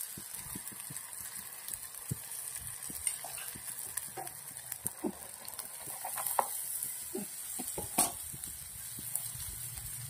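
Green onions sizzle and get stirred in a frying pan with turmeric, salt and coriander-cumin for a Kathiyawadi green onion and gathiya curry, a steady frying hiss with scattered scraping clicks of the spoon and no voices.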